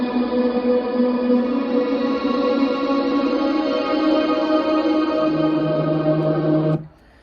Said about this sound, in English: Then we've got the synth reverb track, which is just going to be the synth.